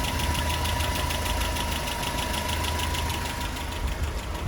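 A Land Rover Series 3 engine runs steadily after a carburetor overhaul, with a rapid rhythmic clacking from the valve area over the close, even engine drone.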